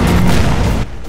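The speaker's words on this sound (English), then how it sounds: "one of our NPCs just like ran up and threw a grenade in my face" A grenade thrown by an NPC bursts in the co-op shooter E.Y.E. Divine Cybermancy: a loud, close, rumbling blast that fills the clip and eases off into a lower roar near the end.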